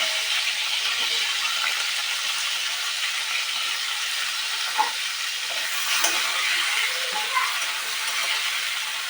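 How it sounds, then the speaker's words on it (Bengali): Pointed gourd (potol) pieces fry slowly in oil in a pan for patal dalna, making an even, steady sizzle with faint occasional stirring scrapes and small pops throughout. "আস্তে আস্তে করে পটলগুলোকে ভেজে নেব।"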